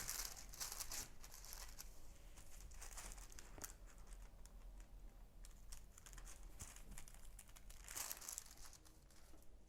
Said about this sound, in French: on va couper le quadrillage avec les ciseaux